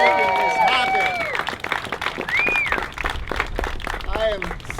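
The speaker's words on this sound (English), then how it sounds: "Let's give Ed and Bernie an LA round of applause for making this happen" Applause from the crowd at an outdoor press conference in MacArthur Park, Los Angeles, a dense clatter of hand claps with some whistles and cheers carrying over the top, fairly loud and steady.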